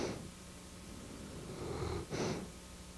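A Newfoundland dog snores nearby in steady, rumbling breaths, with a louder snorting inhale near the end.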